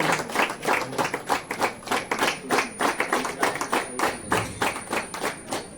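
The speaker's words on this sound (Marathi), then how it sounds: "टाळ्यांच्या आवाजामध्ये स्वागत करायचं आहे" A crowd claps steadily to welcome a guest at a felicitation ceremony in Dattawadi, Rajapur, with dense rhythmic hand claps that hold at an even, fairly loud level throughout, with no speech over them.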